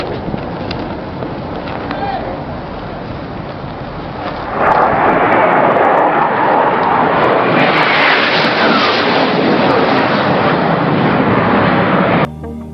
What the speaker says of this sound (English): Looks like you may come across the flight deck, coming in low, bridge wing level.